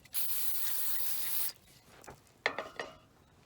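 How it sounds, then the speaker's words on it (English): Brake cleaner sprays from an aerosol can into hydraulic hose couplers in a loud, close, continuous hiss lasting about a second and a half, followed by a few soft clicks and handling knocks. "I just take a bit of brake cleaner, give them a good wash"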